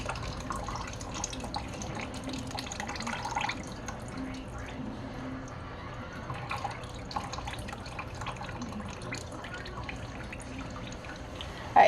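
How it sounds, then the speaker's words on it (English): Oil or water being drained from an opened tuna can, a steady drip and trickle of liquid at close range lasting throughout, with a brief clunk at the very end. "you want to make sure you drain all the oil or water, whatever you have in your tuna, out"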